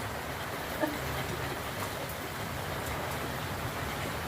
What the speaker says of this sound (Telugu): పొద్దు పొద్దున్నే తెల్లవారుజామునే వర్షం పట్టుకున్నదండి